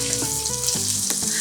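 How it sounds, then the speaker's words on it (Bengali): Boiled, mashed potato fries in ghee in a pan, giving a continuous close sizzle with light stirring, while tonal background music plays over it. "এখন আমি ঘিয়ের সাথে আলু 1 মিনিটের মতো ভেজে নেব।"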